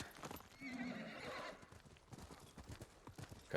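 Horse in the video game Ghost of Tsushima galloping with quick, irregular hoofbeats, a short whinny early on, fairly faint and close, with no talk over it.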